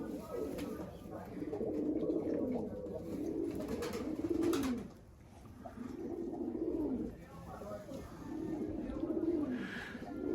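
Homing pigeons coo in repeated soft, throaty bursts close by, several rounds separated by brief pauses, with faint background noise and occasional chirps.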